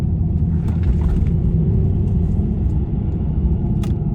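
Loud low engine rumble from a 2020 Genesis G70 2.0t AWD dropping gears on an uphill turn, a dense steady drone inside the cabin with no speech.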